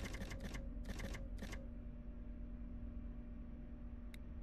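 Computer keyboard typing: tight clusters of quick key clacks during the first second and a half, then a lone click near the end, all over a steady low electrical hum.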